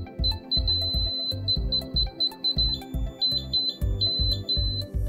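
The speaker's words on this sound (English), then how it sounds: "As the meter gets closer to zero, it beeps faster and eventually constantly." Series of short, high-pitched electronic beeps from a Fluke laser distance meter in tilt-leveling mode, the pulses quickening and repeating rhythmically over a low background rumble, close and fairly loud with no talking.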